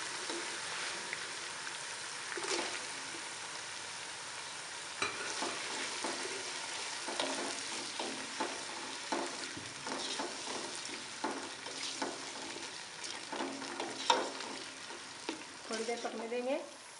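Chopped tomatoes sizzle and fry in a hot pan, with a utensil stirring and scraping through them in irregular clatters over a steady low crackle, close and fairly quiet, no talking.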